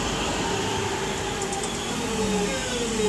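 Class 323 electric multiple unit 323-203 running past the platform at Lichfield Trent Valley, with a steady electric drone and slowly shifting whine over rumbling wheel noise, near and sustained with no voices.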